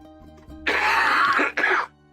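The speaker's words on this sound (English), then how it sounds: "The soundboard is for Kyle coughing, because he never does that." A cough sound effect fired from a soundboard during a tabletop game night chat, a loud, close throat-clearing cough followed by a second short cough, with no talking over it.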